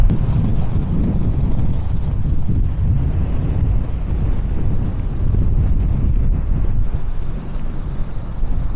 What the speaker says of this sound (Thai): ลมแรงมากจริง